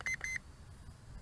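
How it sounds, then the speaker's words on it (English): Three short electronic beeps in quick succession from a Holystone HS165 drone's remote control, clear and close, followed by a faint low hum. "we got some beeping going on too on the remote control"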